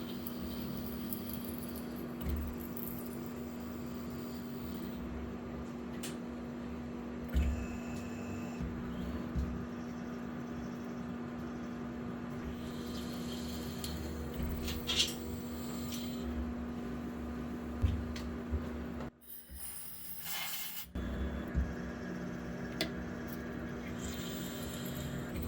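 Spinogy X30 5 kW CNC spindle rigid tapping a series of holes, its steady machine hum stepping up in speed by 100 RPM after each hole from 200 RPM, with brief louder bursts at each tap and a short quiet pause near the end.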